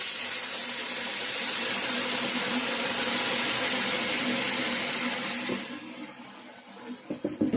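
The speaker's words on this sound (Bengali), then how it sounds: "গরম জল অ্যাড করে দিয়ে দেবো এখন জল দিয়ে দিব এখন" Hot water is poured into a simmering fish curry with kohlrabi, a steady rushing gush that tapers off near the end into a few splashes and clatters.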